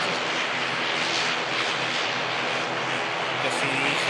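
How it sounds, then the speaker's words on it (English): An EasyJet airliner arriving from Alicante touches down, a steady, broad jet-engine roar holding at even loudness throughout, heard from a moderate distance with voices underneath. "Just see the EasyJet from Alicante touching down."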